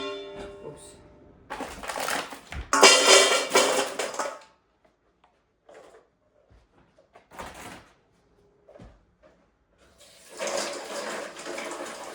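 Cold water gushes from a tap into a bowl to thaw frozen shrimp in a home kitchen, arriving in a few separate loud pours with quiet gaps between them.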